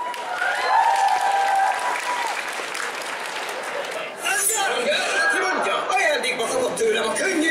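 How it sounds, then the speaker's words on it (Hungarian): Audience applause and cheering at a cosplay contest, a steady crowd roar of clapping with chatter and laughs mixed in, then a brief dip and renewed clapping with some voices over it. "Nagy tapsot!"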